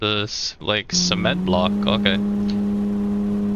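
A truck engine in the video game No One Survived holds a steady, laboring low drone that starts after a short stretch of talking and continues under the rest of the moment.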